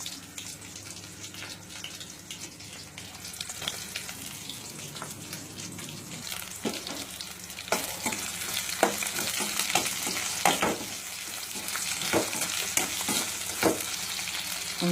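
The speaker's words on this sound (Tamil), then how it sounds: "சீக்கிரமாக வெங்காயம் வதங்கும்" Onions fry in a pan for mushroom kulambu while being stirred, a building sizzle punctuated by frequent crisp scraping and tapping of a spatula, growing busier in the second half.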